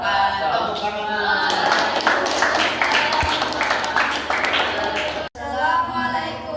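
A classroom of students claps after a student presentation, a brisk round of hand-clapping that lasts a few seconds and then fades, with murmuring voices around it.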